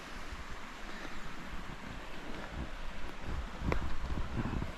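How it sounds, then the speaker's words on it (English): Broadband rushing of water cascading down rocks along the Shades of Death trail in Hickory Run State Park, a steady wash with slight surges, mixed with faint wind noise. "there's some water cascading down the rocks"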